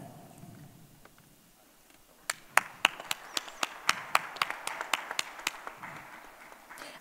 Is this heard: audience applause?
yes